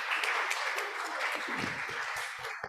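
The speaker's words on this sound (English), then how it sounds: "a huge round of applause to them, Fiona and Alexa." An audience at a university lecture series event gives a warm round of applause, continuous and fairly close, with a few sharper claps and scattered crowd noise toward the end.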